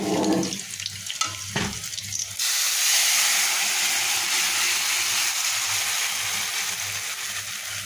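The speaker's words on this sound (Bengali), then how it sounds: "পেঁয়াজটা বাদামি করে ভাজা হয়ে গেছে, এখন সবজিটা আমি এর ভিতরে দিয়ে দেবো।" Boiled vegetables hit a pan of browned fried onion and burst into a loud, steady sizzle. A few stirring clatters come first, then a continuous hiss of frying that holds to the end.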